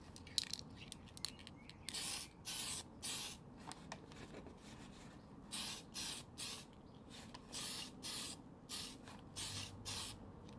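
Short bursts of aerosol spray paint hiss out one after another in a steady rhythm onto a radio-controlled car body, each lasting under a second, close and clear.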